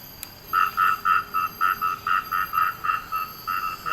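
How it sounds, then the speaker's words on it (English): An Asian grass frog croaks in a steady rhythmic series of about a dozen short, bright pulses, loud and close, against faint hissing forest ambience on a nature trail in Sentosa. "Now this is the Asian grass frog."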